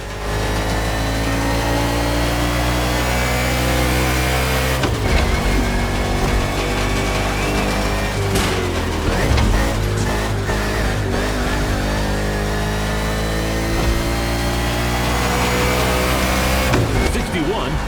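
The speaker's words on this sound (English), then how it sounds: "car is returning to the race after a quick stop." A NASCAR-style race car in The Crew Motorfest pulling back onto the track after a quick stop, its engine droning loud and steady with rising and falling revs, a commentator's voice talking over it.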